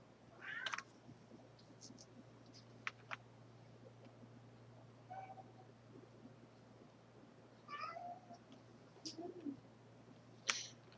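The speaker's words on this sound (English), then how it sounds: "Sorry if you can hear my cat, she is very talkative." A talkative pet cat meows several times in short bursts over a steady low hum, with faint bird cooing between calls; the meows are moderately close but fairly quiet.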